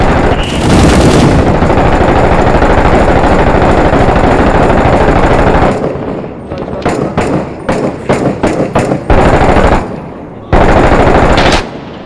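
Sustained automatic gunfire from the Iraq war video game Six Days in Fallujah, a dense loud rattle for several seconds, then broken into short sharp bursts and single cracks, with faint voices underneath.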